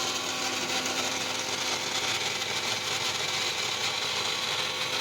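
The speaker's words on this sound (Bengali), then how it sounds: "এখানে দেখো মিক্সিতে একটা পেস্ট বানাবো" An electric mixer grinder whirs loudly and steadily as it grinds poppy seeds and cashews into a paste, a constant high motor drone with no break.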